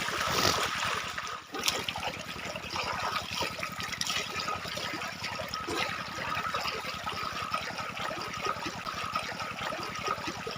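Irrigation water pours steadily into a wheat field, a continuous close rushing gurgle with a rapid pulsing rhythm throughout, loud and unbroken, with no talk over it.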